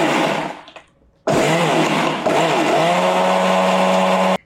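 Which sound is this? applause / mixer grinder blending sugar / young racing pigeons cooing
mixer grinder blending sugar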